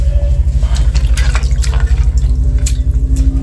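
Fresh thyme is washed in a basin of water, giving close, steady splashing and dripping with rhythmic swishes throughout and no voices.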